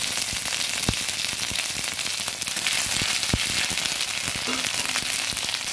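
Chopped ginger frying in hot oil with cumin and dried red chilli for a banana-flower cutlet mix: a steady, close sizzle with scattered crackles and a few sharp pops, no talking.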